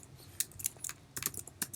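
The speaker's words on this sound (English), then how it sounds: "here I'm typing h1" Keys clatter on a computer keyboard in short irregular clicks, quiet and close, with no voices, as a short heading is typed into a React to-do app.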